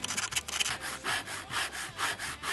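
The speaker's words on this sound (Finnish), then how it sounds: "Pakoputki on valmistettu hapon kestävästä teräksestä, joten sen sahaminen saattaa olla hieman hankalaa." A hand saw cuts through an acid-resistant steel exhaust pipe for a Wallas cabin stove installation, a close run of about six steady rasping back-and-forth strokes.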